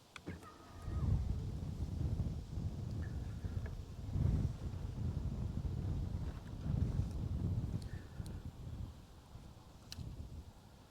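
Wind gusts rumble low and steady against a drifting fishing boat on a river current, a continuous blustery roar with occasional faint knocks, no voice.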